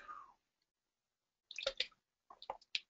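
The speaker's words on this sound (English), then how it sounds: "I'm going to have a drink of water" Someone drinks a glass of water close to the microphone, taking a few quiet gulps and wet swallowing sounds in two short bursts after a pause.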